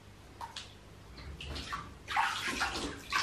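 Bathwater sloshes and splashes softly as a child plays with toys in a home bath, in a few gentle bursts that grow slightly louder toward the end.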